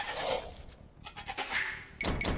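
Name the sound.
sheep bleating in video game Age of Empires II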